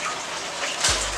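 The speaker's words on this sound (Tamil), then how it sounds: "இந்த தண்ணி ஊற்றிக்கோங்க" Water is poured out while making rice vathal from ration rice, giving a steady, close broadband gush that swells briefly near the end with a low rumble, no voices.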